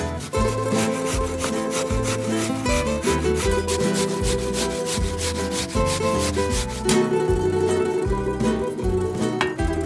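Peeled apples are grated in long, repeated rasping strokes with a steady rhythm, close and loud, with no talking.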